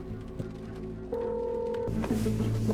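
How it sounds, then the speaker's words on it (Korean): A police officer dials a telephone: a few short keypad tones, then a steady held tone and more beeps, close and fairly clear with a faint background hum. "그때 경찰관 마르크가 민구스에게 전화를 겁니다"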